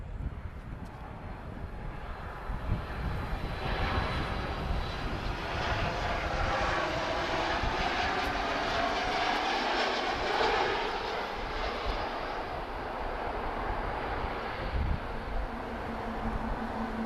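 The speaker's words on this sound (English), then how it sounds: "737 MAX, Foxtrot Romeo 4531, operated by Malta Air. She's a MAX 8-200, arriving from Rome." Malta Air Boeing 737 MAX 8-200 arriving at Lisbon Airport, a steady broad jet engine roar that swells through the middle and holds without talk.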